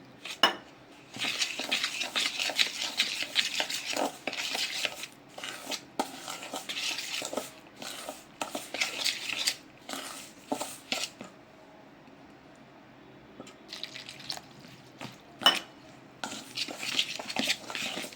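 A spoon works idli batter of rice flour, semolina, curd, salt and water around a bowl: bursts of scraping and clinking against the sides, with a quieter pause partway through before the stirring resumes.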